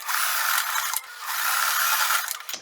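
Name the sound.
sewing machine stitching fabric tab onto shirt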